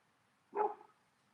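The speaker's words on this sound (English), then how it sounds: "the dog is trying to get the cat" Single short bark from a dog chasing a cat outdoors, moderately faint and somewhat distant against quiet background.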